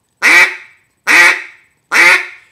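Duck call blown with a raspy quack, three evenly spaced reedy honks, loud and close with silence between them.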